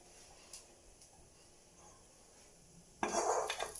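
Quiet kitchen sounds with a few faint clinks, then a louder burst of scraping and rattling as roasted coconut is transferred onto a plate near the end.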